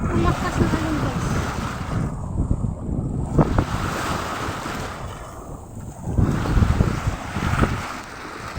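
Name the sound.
strong sea waves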